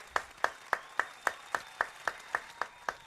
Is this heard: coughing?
no